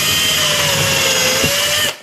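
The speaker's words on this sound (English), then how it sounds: "just drill down through that" A drill bores through a pine cone for a small cone wreath craft, a steady close whine running for about two seconds before cutting off abruptly.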